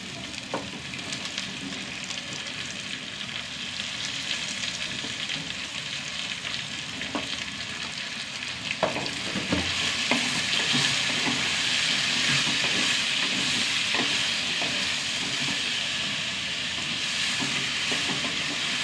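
Sliced eggplant and browned onions fry in a pan with a steady, dense sizzle, occasional stirring clicks and scrapes, close and constant throughout, with no voice.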